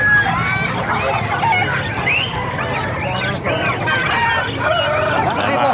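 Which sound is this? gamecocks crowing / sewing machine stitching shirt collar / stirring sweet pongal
gamecocks crowing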